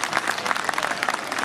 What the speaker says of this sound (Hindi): एक बार प्लीज जोरदार ताली बजा दीजिए।